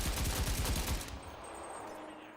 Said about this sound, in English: This is a full power rifle cartridge being fired out